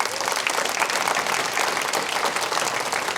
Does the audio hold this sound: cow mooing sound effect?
no